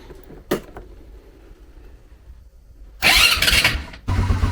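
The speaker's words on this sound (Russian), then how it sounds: "Сейчас для того, чтобы масло разогнать по системе, мы с вами квадроцикл ненадолго заводим." A 200cc ATV that has just had its oil changed is cranked to start with its fuel tap closed: faint clicks, then a loud burst of cranking and a rough, low engine noise at the end.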